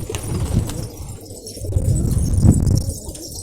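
Pigeons coo softly and repeatedly at close range among several birds kept in a loft, the low, throaty calls overlapping with faint rustling and occasional wing movement.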